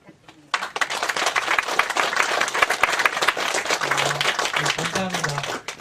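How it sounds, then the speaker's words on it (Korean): Applause from a lecture audience for a professor at a patent talk, brisk crowd clapping starting abruptly and continuing steadily, with a voice speaking briefly over it near the end. "저희 교수님께 큰 박수 부탁드립니다"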